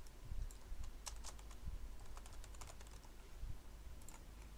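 Close, quiet keystrokes on a computer keyboard come in irregular bursts of clicks while coding an ASP.NET page in Visual Studio 2010, with no speech over them.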